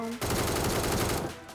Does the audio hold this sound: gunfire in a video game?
yes